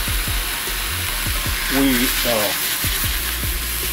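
A burger patty frying in a pan, a steady broad sizzle running throughout with brief scraping sounds, a voice speaking briefly over it.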